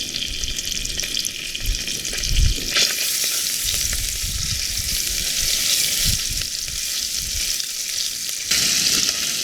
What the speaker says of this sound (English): So you cook out your tomato paste for a couple of minutes.